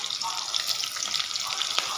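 Onion and green chili sizzling in a pan with cumin, a steady close hiss and crackle of sautéing, fairly soft, with no voices over it.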